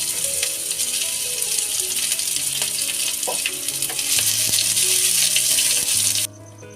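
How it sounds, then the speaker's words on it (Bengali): Chopped onion hits hot oil already scented with cardamom, clove and bay leaf, giving a steady, close sizzle with a few soft stirring clinks, until it cuts off sharply near the end. "তারপর মশলাগুলো হালকা নাড়াচাড়া করে আমি দিয়ে দিলাম পেঁয়াজ কুচি"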